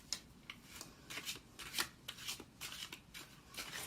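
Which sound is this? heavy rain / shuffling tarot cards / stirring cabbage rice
shuffling tarot cards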